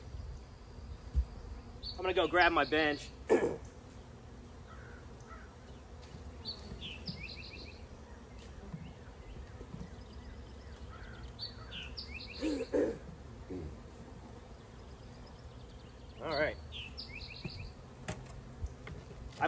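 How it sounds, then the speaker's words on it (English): Honey bees swarming around a hive where a large cluster has settled beneath an existing colony give a faint, continuous buzz close by, broken by birdsong and someone speaking briefly. "I've not had a giant cluster ball of bees just decide that their new home is underneath an existing colony"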